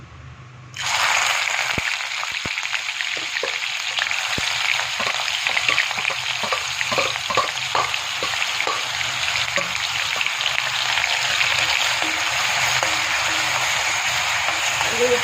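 Chopped onions fry in refined oil in a pan, a loud, steady sizzle that bursts in suddenly and carries on with scattered crackles and pops, heard close up and without talk.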